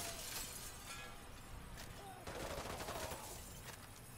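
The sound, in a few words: gunfire in airport massacre, video game Call of Duty: Modern Warfare 2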